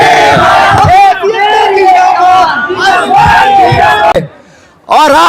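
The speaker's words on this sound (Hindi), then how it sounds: "ये लाई हुई भीड़ नहीं है, ये खुद से आई हुई भीड़ है" A large crowd at a political rally shouts and chants loudly together in close, repeated bursts of many voices, with a brief lull before the cheering surges again.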